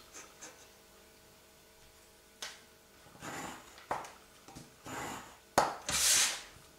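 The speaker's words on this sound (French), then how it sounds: "Et je marque le pli." Paper being creased along a fold for an origami pouch: soft, close rubbing and scraping strokes in short bursts, getting firmer toward the end, in a quiet room with no talk.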